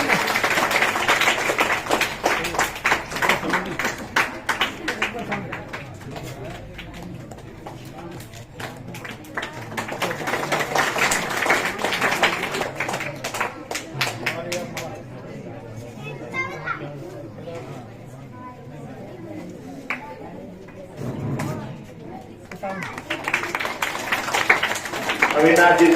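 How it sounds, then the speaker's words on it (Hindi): An audience claps loudly and steadily at a retirement function, the applause rising and falling in waves while someone speaks over it and children chatter nearby. "बहुत ही अच्छे जोरदार ताली हो जाए 9th क्लास की छात्रा बिरला के लिए"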